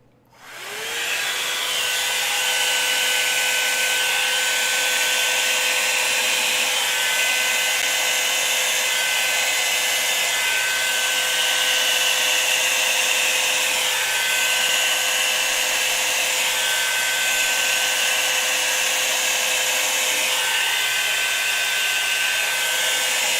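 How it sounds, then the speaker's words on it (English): A Revlon hairbrush hair dryer switches on and blows with a loud, steady whirring roar that holds at the same pitch throughout. "Hair dryer's coming on, guys. Adjust your volume."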